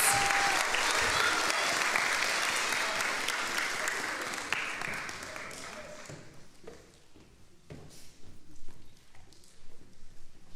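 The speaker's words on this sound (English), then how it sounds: "let's give them some encouragement. Round of applause." A large audience claps for a performance on stage at a children's book award event, a dense, loud wash of applause that gradually thins and fades with scattered final claps.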